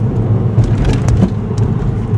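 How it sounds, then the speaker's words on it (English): Low, loud interior road rumble comes from a car crossing a bump at 30 mph, with a few dull knocks and jolts over the steady drone of the drive. "We'll just proceed along a bump at 30 miles an hour."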